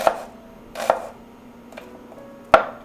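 A knife mincing shallot on a cutting board, four separate sharp knocks spread unevenly over a few seconds against a quiet background, close and clear, no speech.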